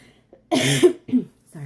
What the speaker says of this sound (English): I'm forever coughing.